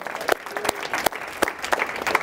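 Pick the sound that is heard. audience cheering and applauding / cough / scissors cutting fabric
audience cheering and applauding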